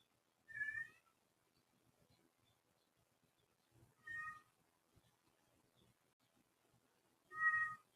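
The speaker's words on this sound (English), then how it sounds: "So we have a Ecstatic Yoga Cat Xander" A cat meows three times at even intervals, each call short and clear, in a quiet room during a yoga class.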